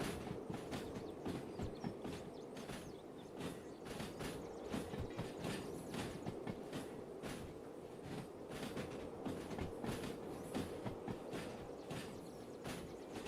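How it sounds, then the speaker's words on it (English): A long freight train running on rails in the video game Derail Valley, a steady rhythmic clickety-clack of wheels over rail joints under a continuous rolling rumble, loud and close with no talk. "It's a long old train, this."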